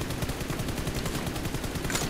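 Automatic gunfire sprayed in a long unbroken burst in the shooter game PUBG Mobile, with rapid, evenly spaced shots hammering loudly and close throughout.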